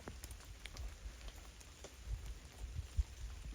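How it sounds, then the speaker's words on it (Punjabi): Rain falls on a farm field of wheat during urea spreading, a soft, fairly faint hiss of drops with scattered low thumps and crackles throughout, no voices. "ਵਾਰਸ਼ ਮਿੱਤਰੋ ਫੇਰ ਵੱਜ ਗਈ ਮੀਂਹ ਵੱਧ ਪੈਣ ਲੱਗ ਗਿਆ"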